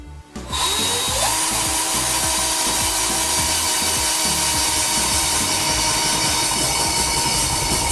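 A cordless drill driver runs steadily while drilling holes in wood, a loud continuous whine and grinding that starts after a brief quiet moment and holds without pause to the end.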